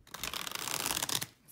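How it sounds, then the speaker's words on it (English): A tarot card deck is ripple shuffled up close, a dense, crisp fluttering rattle of cards riffling for about a second before stopping abruptly, with no talking. "Depending on how you shuffle, I ripple shuffle."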